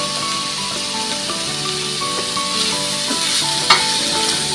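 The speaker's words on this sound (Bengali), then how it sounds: "সব নাড়িয়ে আলু আর চিংড়ি মাছ ভাজাগুলো দিয়ে দেবো।" Fried potatoes and prawns being stirred in a hot frying pan, a loud steady sizzle with scraping stirs and one sharp clink near the end.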